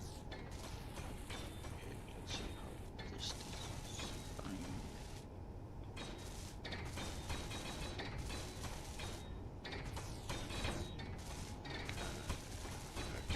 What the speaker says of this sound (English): Let's weld you up with everybody this time.